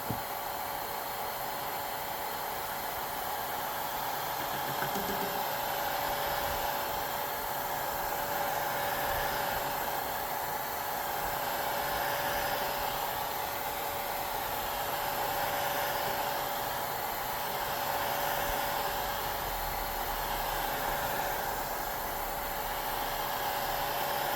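A heat gun on a low setting drying freshly airbrushed paint blows a steady, close whooshing hiss with a faint constant hum underneath, unchanging for over twenty seconds with no speech.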